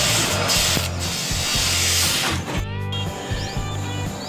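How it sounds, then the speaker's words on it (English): Steel parts of a test tube stand being welded, a loud continuous hissing crackle with low rhythmic hum beneath, briefly broken near the middle before resuming. "Now we are going to weld the rest accessories."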